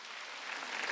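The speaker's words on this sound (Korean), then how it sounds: "박수치고" A church congregation clapping during a Wednesday worship service, a brief, dense, even burst of many hands heard from a moderate distance.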